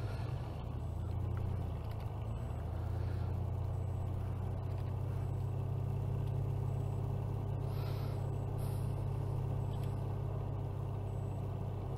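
A vehicle on the main road in Farming Simulator 19 gives off a steady low engine rumble that holds for the whole stretch, with faint higher whines and clicks above it.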